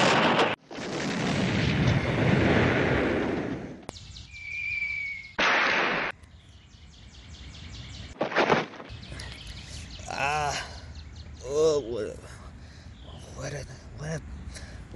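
A loud, sustained blast-like roar opens, followed by sharp bursts and crashing sounds, with voices talking afterward.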